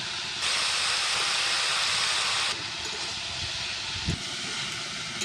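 Chopped tomato drops into a pan of frying ash gourd and potato, setting off a loud, steady hissing sizzle that runs for about two seconds before settling to a quieter crackle, with a brief knock near the end.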